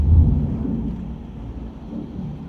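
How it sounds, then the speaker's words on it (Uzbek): Low rolling thunder from a lightning strike in the Car Parking Multiplayer driving game, a dull rumble that starts loudest and settles into a steady, fairly loud low roar across the clip, with no talking. "Voy, yomon chaqmoq qotdi-yu."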